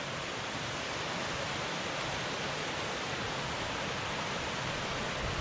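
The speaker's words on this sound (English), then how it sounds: "We're gonna walk alongside this little waterfall here." A small waterfall on Phantom Creek along the Maple Valley Trail, giving a steady, dense rush of falling water that holds an even level throughout with no voices.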